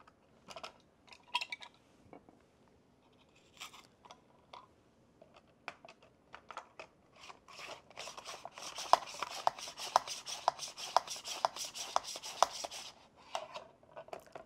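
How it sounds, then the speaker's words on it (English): An onion is sliced on a simple mandoline slicer at its second setting, scattered taps and rubs at first, then a faster run of rhythmic rasping strokes, fairly quiet and close. "Okay, let's slice an onion. We're going to do it on the second setting."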